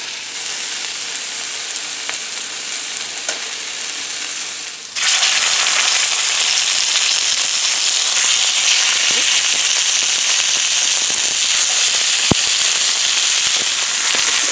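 Steak searing in a cast iron pan, a softer sizzle that abruptly swells into a loud, dense, crackling roar that holds steady with scattered pops, no voices.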